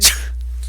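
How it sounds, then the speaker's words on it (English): One quick, sharp sneeze from Snake in Metal Gear Solid bursts out at the start, then fades into a low steady hum. "Oh, God, bless you, Snake"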